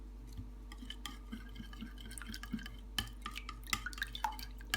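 Stale bread pastry mixture with parsley, red pepper flakes and salt stirred in a bowl, soft wet squelches and scrapes with light clinks of a spoon against the bowl, close and quiet with no voices.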